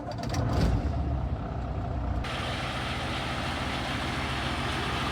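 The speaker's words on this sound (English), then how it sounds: "Guess we can start the truck again." A truck engine catches with a rough burst and then settles into a steady, close diesel idle that drones on evenly without any talk.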